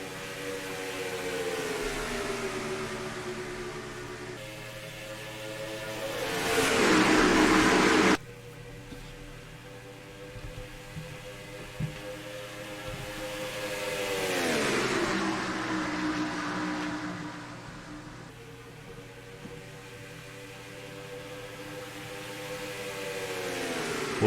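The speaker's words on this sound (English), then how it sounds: "We're Green Flag Racing in the last race of the year, the finale of the Turkey Hill Truck Series" Racing truck engines in the NASCAR Racing 2003 game, Turkey Hill Truck Series finale, whine at a sustained high pitch and rise and fall through shifts, with a brief louder burst partway through.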